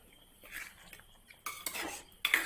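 Pieces of fish get stirred into a coconut curry paste in a pot for a Kerala-style fish curry, making soft scraping and scattered clinks of a utensil against the vessel, close and irregular, with louder scrapes toward the end.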